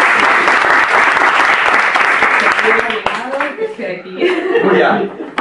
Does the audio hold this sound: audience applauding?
yes